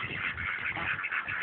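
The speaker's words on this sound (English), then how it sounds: "Geese, ducks, welsumers, random other chickens" Farm ducks quacking among geese and chickens, a steady overlapping chorus of nasal calls filling the whole moment at close range with no talk.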